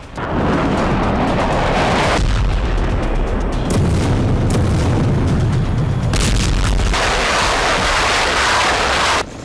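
War footage from the Russia–Ukraine conflict with loud booming artillery fire and explosions, heavy rumbling blasts rolling in successive waves without pause.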